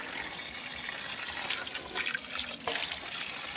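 Water splashing and trickling as it is poured to rinse a thorn wound outdoors in a rural setting, a steady close wash with a few brighter splashes and no talk.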